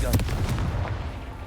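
Confringo fire spell blasts in Hogwarts Legacy, a quick run of sharp explosive bursts up front followed by a rumbling, fading boom layered with game ambience.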